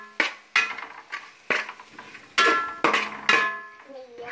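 Turmeric and chilli powder stirred in a pan for tomato rice: a spoon knocks and scrapes against the metal pan in a series of sharp, ringing clinks, close and distinct.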